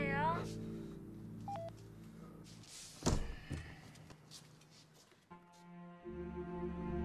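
A telephone is dialed, short tone beeps and a handset clunk under a background of music and speech, with steady dial-tone-like hums near the end.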